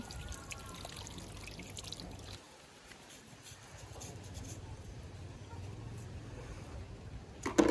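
Water pours and trickles over mangoes as they are washed, a continuous splashing flow that dips briefly before resuming, with faint voices in the background.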